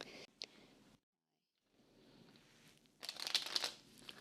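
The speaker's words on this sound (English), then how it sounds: "that was a good shuffle" Faint riffling and crackling of playing cards being shuffled, with a brief quiet pause, then a louder flurry of snapping card sounds near the end.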